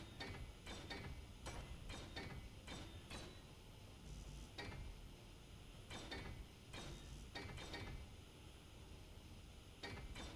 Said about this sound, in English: I'm trying to weld the armor